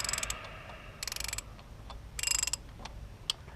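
Short bursts of rapid ratcheting clicks from a torque wrench tightening flywheel bolts during an M3 clutch replacement, two distinct runs of clicking with a faint tick afterward, fairly quiet and close.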